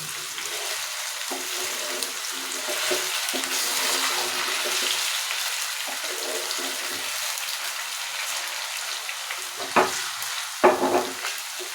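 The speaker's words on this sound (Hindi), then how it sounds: "जब आप कवर करके रखते हैं ना तो उसके थोड़ी देर बाद आप देखते हैं तो फ़ौरन से ही जो है ना चिप्स वो फ्राई हो" Potato chips fry in oil inside a covered pan, giving a steady muffled sizzle and hiss that rises slightly mid-way, with a couple of sharper clatters near the end and no talking.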